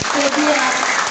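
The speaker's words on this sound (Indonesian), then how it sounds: "berikan tepuk tangan buat" Audience applause for student council candidates at a vocational high school debate, a dense continuous clapping wash sustained through the whole short clip with a faint voice underneath.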